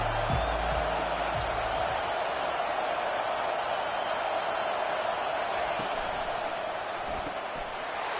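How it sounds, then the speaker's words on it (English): Steady roar of a college football stadium crowd, a dense, even wash of noise holding for the whole stretch with faint low thumps early on. "This crowd bringing the energy and noise early."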